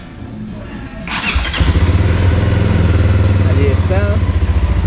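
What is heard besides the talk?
Voge 300 DS motorcycle engine starting and idling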